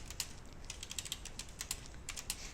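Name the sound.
pressing Ctrl+A on computer keyboard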